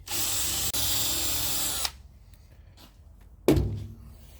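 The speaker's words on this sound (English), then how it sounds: "But you do have a cheap box store drill and a wire wheel." A cordless drill fitted with a wire wheel whirs loudly while cleaning a part, cuts off abruptly, and is followed after a quiet pause by a single dull thunk.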